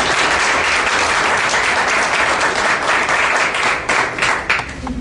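Steady, dense applause from an audience at a study-circle talk on refining at PEMEX, a broad wash of clapping that holds for several seconds before thinning slightly near the end.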